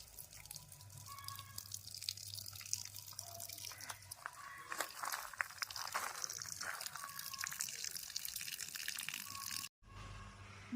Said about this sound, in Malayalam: നമുക്കപ്പോൾ വെള്ളം ഒഴിക്കാം